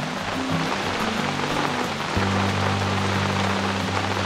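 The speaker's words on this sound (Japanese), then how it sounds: "めっちゃ雨降ってきたな" Heavy rain pours steadily onto a campsite at Isshiki no Mori, a dense, even wash of drops hitting surfaces close by, with a low steady hum running beneath it.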